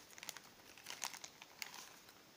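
Plastic packaging from a Miraculous Ladybug Burger King toy is torn open by hand, giving soft, close crinkles and sharp crackles in irregular bursts.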